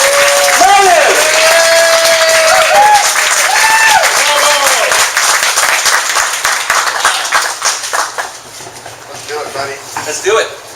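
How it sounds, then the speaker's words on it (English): An audience at a Silicon Valley networking event applauds loudly as a presenter is welcomed, dense clapping with some cheering that fades and thins toward the end, with voices and music-like tones mixed in. "Give him a big round of applause."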